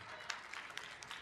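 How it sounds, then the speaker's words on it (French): An audience at a voice actor conference gives faint, distant applause, a steady patter of clapping with a few sharper individual claps standing out. "Applaudissements pour Pierre."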